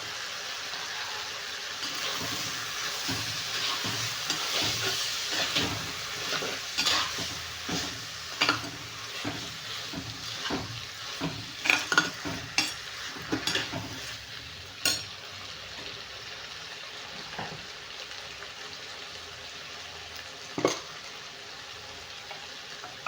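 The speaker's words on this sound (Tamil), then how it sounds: "இந்த வெங்காயம் இதெல்லாமே தக்காளி இதெல்லாமே நமக்கு உப்பு பிடிச்சி வேவிக்கணும்." Sliced onions and tomatoes with salt sizzle steadily in a pan while a utensil stirs and scrapes against the metal now and then, with no talk, close and fairly loud.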